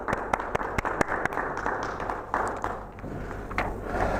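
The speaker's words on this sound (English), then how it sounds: "a round of applause please" Scattered clapping at a school end-of-year reward worship assembly, sharp separate claps with a soft crowd murmur, moderately near and fairly brief rather than a full sustained ovation.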